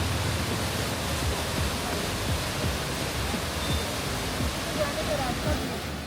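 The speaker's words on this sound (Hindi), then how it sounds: "पहले इन घने पेड़ों के बीच से ये पानी की आवाज़ को सुनिए।" Water rushes and flows among dense trees near Bhimtal Lake in India, a steady broadband roar with no breaks, close and fairly loud throughout.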